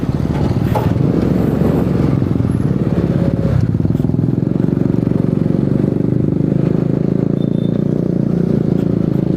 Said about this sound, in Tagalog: Grabe ang dragging ng motor ko.